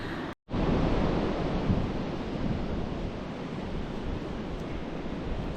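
Ocean surf rolls onto a beach on the North Coast Trail of Olympic National Park, a steady, full roar of breaking waves with some wind rumble against the microphone and no voices.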